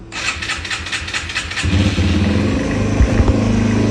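A Yamaha XT225 dual-sport motorcycle cold-starts: the engine cranks with rapid starter pulses, then catches and settles into a loud, steady idle.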